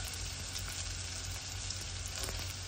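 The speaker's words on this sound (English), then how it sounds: "Now we added little bit of mustard seed." Mustard seeds sizzling and frying in hot oil for an okra and tuna curry, a steady close crackle with faint pops, no voices.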